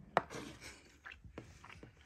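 A knife cuts into a mint chocolate birthday cake, a faint sharp tap against the plate followed by soft, muffled slicing and scraping sounds up close.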